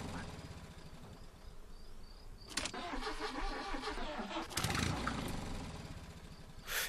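A 1973-era car in the game Jalopy, out of gas, cranks repeatedly without catching: a faint buzzing starter whir rising in two longer bursts, with no talk.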